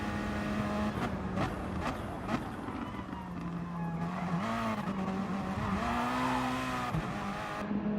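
Race cars in a video game race wheel to wheel, engines droning steadily and shifting pitch as they jostle for position, with bursts of tire squeal and skidding throughout.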